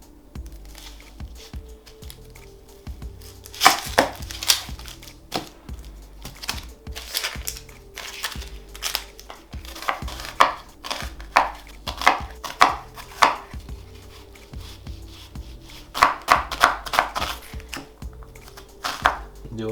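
Half an onion being chopped with a knife on a cutting board, a steady run of crisp, close knife strikes in quick bursts with short pauses between them.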